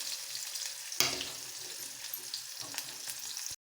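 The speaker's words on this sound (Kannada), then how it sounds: "ಎಣ್ಣೆ ಕಾಯ್ದಿದೆ, ಜೀರಿಗೆ ಹಾಕಿ ಆಮೇಲೆ ಈರುಳ್ಳಿ ಹಾಕಬೇಕು" Cumin and onions frying in hot oil make a quiet, continuous sizzle with a few faint stirring sounds, ending in a brief moment of silence just before the clip finishes.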